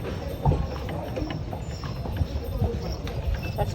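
A horse pulling a carriage through the narrow streets of Malta's ancient capital clip-clops steadily at a walking pace, the hooves moderately close under a faint rumble and people talking.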